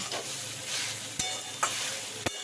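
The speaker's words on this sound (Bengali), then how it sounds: "আমি সোয়াবিনটাকেও একটু নুন হলুদ দিয়ে ভেজে নিচ্ছি" Soybean chunks fry in a pan with salt and turmeric for a vegetarian papaya curry, giving a soft, steady sizzle close by, punctuated by three sharp stirring clicks from a spatula against the pan, with no talking.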